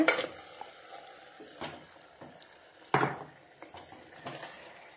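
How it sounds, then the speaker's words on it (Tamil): Marinated mutton hits hot oil in a pan and starts frying, with a loud burst of sizzle at the start and again midway. Spoon scrapes and stirring clatter run between the bursts. "இப்ப நம்ம பெரட்டி வச்ச கறியை இதுல சேர்த்துடலாம்"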